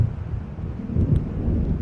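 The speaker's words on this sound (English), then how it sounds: "It seems there's a storm coming." A thunderstorm in the video game Alan Wake Remastered: a continuous deep, heavy rumble of thunder with gusty low noise, fairly loud and close throughout, with no voices.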